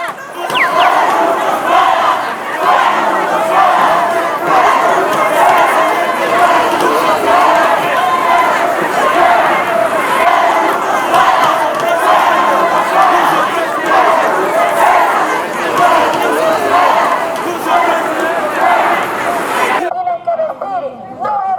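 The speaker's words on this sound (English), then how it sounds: "After seeing the victorious crowds in Independence Square" Dense crowds celebrating a newly elected president in Independence Square, Ecuador, keep up a continuous roar of shouting and chanting voices that stays close and loud, then cuts off sharply near the end.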